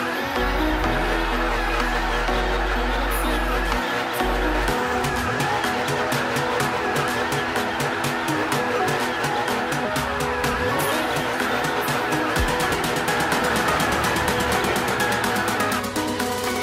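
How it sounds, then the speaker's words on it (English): A Nissan S13 with a 99hp drift setup in Car Parking Multiplayer drifts with a continuous engine drone and long stretches of tire squeal and skidding, loud and unbroken across the whole run. "Drifting in first-person view is awesome."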